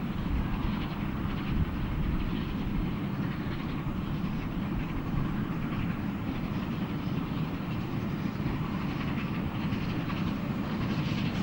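Steam locomotive Taw Valley, hauling an Orient Express train across water meadows, runs gently under a speed restriction, its steady rumble and rolling wheel noise continuous and fairly close throughout.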